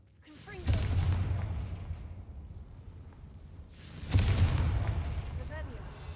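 Two deep booming blasts of the Confringo fire spell in Hogwarts Legacy go off several seconds apart, each a loud sudden burst with a rumbling tail, under occasional speech.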